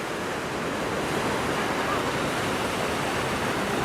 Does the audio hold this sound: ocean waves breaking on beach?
yes